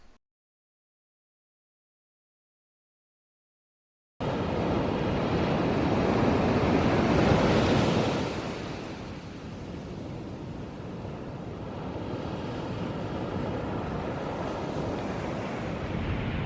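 Ocean surf breaks on a Pacific beach in Guatemala at sunrise after a stretch of silence, a broad continuous roar of waves that swells and eases, with some wind rumble and no voices.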